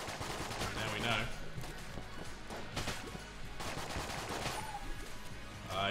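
Rapid Mac 10 gunfire in the video game Enter the Gungeon, a dense continuous stream of shots with game effects and crashes, with a voice talking over it.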